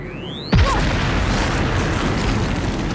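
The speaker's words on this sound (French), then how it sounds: "Ah, ça va tout faire boum. Le détonateur est en place." A detonator blast in the video game Star Wars Outlaws: one sudden, loud boom followed by a dense, roaring rumble of debris that sustains without fading, with a faint descending whine just before the hit.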